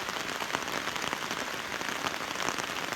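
Heavy rain pours steadily on roofs in a rural southern Laos forest setting during a storm, a dense, continuous hiss of drops with scattered louder patters, close and unbroken throughout, with no talking.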